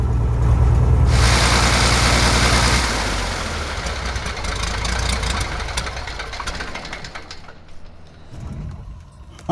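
An airplane engine abandoned for fifteen years and planned for Volkswagen power roars loudly at first, then drops to a rough, uneven idle that sputters and fades, with a few mechanical knocks near the end.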